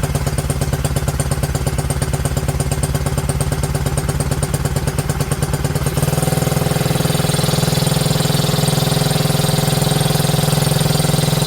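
A 90cc TaoTao ATV engine runs after its first start, a loud, close, rapid put-put idle that shifts at the midpoint into a smoother, steadier drone, with no talking.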